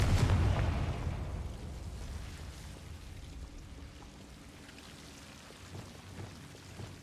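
A fire spell exploding in Hogwarts Legacy, a loud booming burst at the start that rumbles and crackles as it fades into a low, rain-like hiss.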